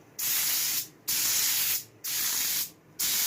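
Four bursts of a spray gun hissing primer onto car parts in a barn, each under a second long, separated by short pauses. Close and steady.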